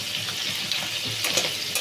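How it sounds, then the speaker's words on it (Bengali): Crabs rubbed with salt, turmeric and black pepper frying in oil in a wok, a close, busy sizzle and crackle with some sloshing and stirring noise, continuous and fairly loud. "কাঁকড়াগুলোকে নুন, হলুদ আর গোলমরিচ গুঁড়ো দিয়ে মাখিয়ে নিয়ে কড়াতে তেল দিয়ে ভেজে নিচ্ছি এভাবে"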